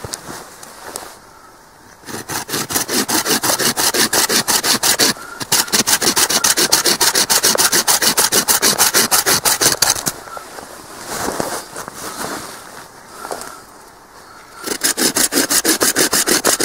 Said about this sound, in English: Now you've seen me sawing these things